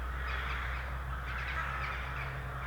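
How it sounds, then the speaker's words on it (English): Crows and jackdaws caw in the distance, faint, agitated calls repeated over a steady outdoor background hum, with no one speaking. "Crows and jackdaws in the distance having a fit."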